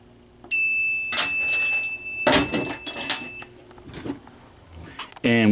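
A fire alarm system on a demo board sounds a steady electronic tone after a smoke detector test, broken by clunks and someone talking over it, then a louder sharp tone at the end.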